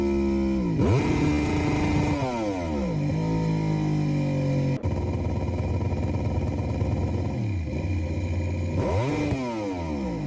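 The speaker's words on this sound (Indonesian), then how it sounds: "si pembalap sengaja menggeber-geber motornya saat memasuki pit stop" Yamaha MotoGP motorcycle entering the pit, its engine revved hard in repeated sweeping bursts that climb and fall, loud and close, with a sharp clack partway through and no voices.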